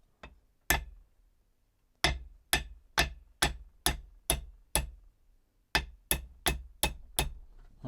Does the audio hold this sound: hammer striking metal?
yes